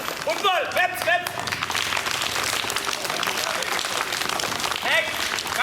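Schoolchildren clap their hands together at a school activity session, a busy wash of clapping and chatter running throughout, with children's voices and an adult calling out over it.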